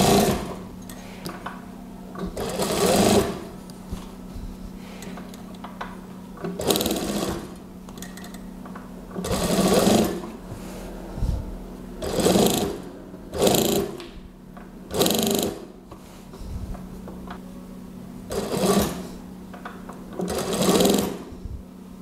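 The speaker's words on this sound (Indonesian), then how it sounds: "Ini untuk menjahit area belakang." A sewing machine stitches the back seam of a gamis cardigan in loud, close bursts of rapid whirring, stopping and restarting about every few seconds with short quiet gaps between runs.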